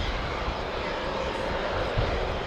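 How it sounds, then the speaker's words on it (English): Airbus A400M military transport aircraft flying a display at an air show, a loud continuous turboprop engine roar filling the air without a break. "A huge aircraft like this, but being thrown through its paces like it was a fast jet aircraft."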